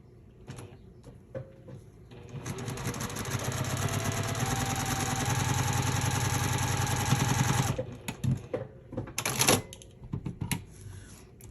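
A sewing machine stitches fabric for foundation paper piecing, starting with a few light clicks, then running in one steady mechanical whir for several seconds before stopping. Short stop-start bursts and handling noises follow.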